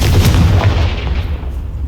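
A loud Confringo spell blast in the Hogwarts Legacy video game booms and rumbles briefly, dense and heavy, then fades into a sustained low roar.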